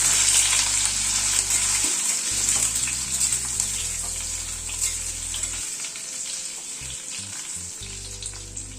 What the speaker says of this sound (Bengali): গ্যাসের ফ্লেমটাকে একটু মিডিয়ামে করে দিয়ে আলুটাকে একটু ভেজে নেব আগে।